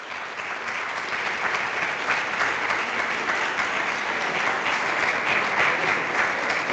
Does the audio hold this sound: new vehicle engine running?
no